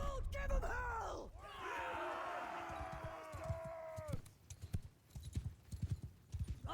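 Cavalry horses in the Mount & Blade II: Bannerlord game, rapid clip-clop hooves with a whinny and battle-crowd noise, loud and busy, with someone shouting commands over it.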